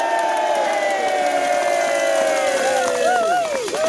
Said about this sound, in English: So let's have a big cheer for ourselves.